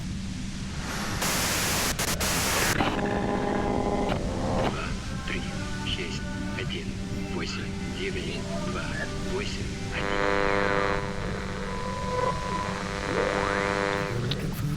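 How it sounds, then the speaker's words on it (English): Loud broadband static hiss from the Disco Elysium video game bursts in early, then gives way to a steady wash of noise layered with tonal, music-like hums and faint voices. "you can do it through the white noise."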